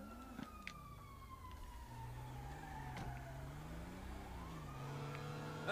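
Police sirens wailing in a Grand Theft Auto V car chase, several sirens rising and falling over a revving engine, fairly distant and soft, with no talk.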